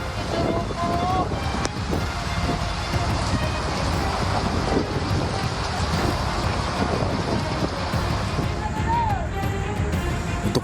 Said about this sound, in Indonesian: angin kencang yang disertai hujan deras di Pelabuhan Merak, Cilegon, Banten dini hari tadi terekam video amatir warga